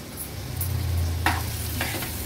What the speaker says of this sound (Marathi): लसूण तेलावर थोडासा परतून घेऊया